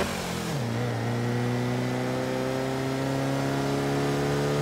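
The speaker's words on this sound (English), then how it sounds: "let's just drive up the road and let you hear this car for a second" A car engine in the racing video game Forza Horizon 3 holds a steady, loud drone with a brief drop in pitch early on, then cruises evenly at one constant pitch, with no talking.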